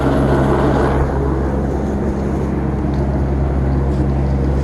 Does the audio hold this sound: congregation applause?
no